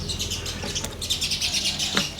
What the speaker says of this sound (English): Those adult birds, look, they're all around. They know there's a chick there.